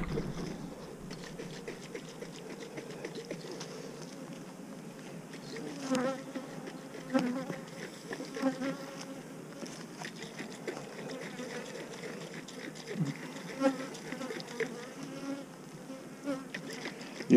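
Honey bees buzz in a dense, continuous swarm as a colony's frames are shaken to dislodge varroa mites. The sound is close and steady, with soft thumps from the shaking.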